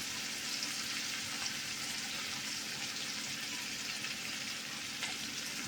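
Food frying in a pan on a low gas flame while being stirred, a soft, steady, even sizzle throughout with faint stirring, no one speaking.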